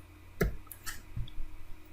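Two quick mouse clicks in close succession, sharp and fairly faint, at a dental imaging workstation running EzDent-i software, with a quiet room hum around them.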